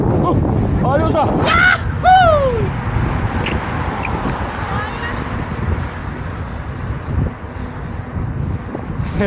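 Strong wind rushes and buffets the microphone during a mountain bike ride, a loud, continuous roar throughout, with a voice calling out near the start.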